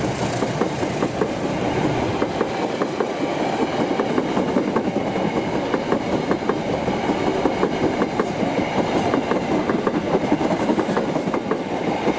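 A train on the first day of a new rail service rolls past steadily, wheels clicking rhythmically over rail joints with a continuous rumble, close and loud throughout.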